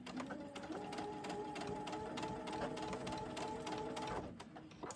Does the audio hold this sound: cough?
no